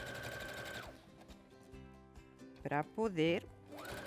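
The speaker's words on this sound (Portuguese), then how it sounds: "Ó, aí tá fazendo zigue-zague. Na sua máquina, se você não tiver, pode fazer também uma costura reta." A sewing machine stitching a zigzag seam whirs briefly at the start, stops while a voice speaks, then starts up again at the end, close by.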